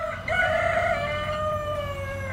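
A rooster on a family farm crows once in a single drawn-out call that rises and then holds, loud and close, with a low background murmur and no talk.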